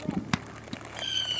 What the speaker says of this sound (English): They're just fireworks.